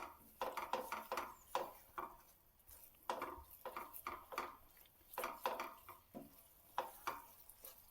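A spoon stirs shahi paneer gravy in a pan, scraping and clinking against the metal in quick, irregular bursts, close and fairly quiet, with no talking.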